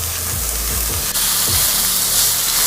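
Onions and jackfruit frying in olive oil: a close, loud, constant sizzle with faint low stirring thumps and a brief sharp click near the middle.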